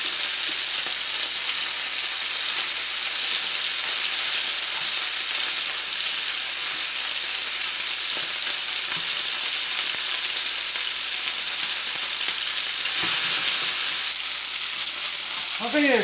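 Chicken wings for lemongrass wings frying in a pan, a loud, continuous, close sizzle of hot oil that stays steady throughout with no voices.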